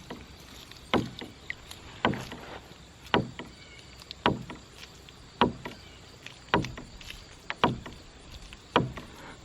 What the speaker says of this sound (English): that's the sound of the drive pipe popping against the side of this little